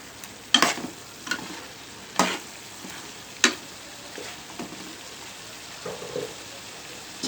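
A Telugu-style chicken curry base simmers and sizzles in a pan, a soft steady crackle broken by a few sharp clinks and scrapes of stirring spaced across the stretch.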